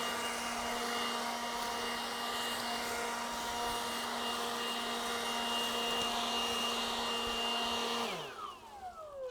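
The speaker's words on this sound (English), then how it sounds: "a backpack battery powered blower" A battery-powered backpack leaf blower runs at steady full speed with a constant high electric whine and rushing air, then spins down abruptly near the end, its pitch sliding away.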